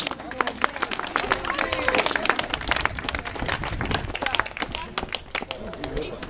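At a house museum opening, an audience breaks into lively applause, a burst of sharp, uneven hand claps that swells and fades over several seconds amid crowd chatter and a speaking voice.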